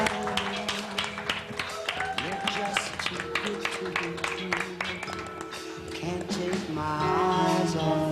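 A studio audience on The Newlywed Game applauds as the contestants come out, scattered claps sounding over band music and a host talking, with the applause swelling toward the end.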